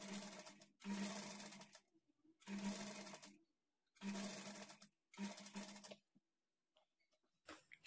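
A sewing machine stitches a lining blouse in five bursts of steady whirring, each a second or so long and separated by short pauses, close and alone.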